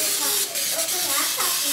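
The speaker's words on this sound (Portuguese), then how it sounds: "Vou untar com spray, untado muito bem," Cooking oil spray hisses in steady bursts as a patterned baking pan is greased before batter goes in for a home dinner, a close continuous spray noise.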